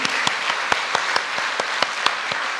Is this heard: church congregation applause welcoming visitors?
yes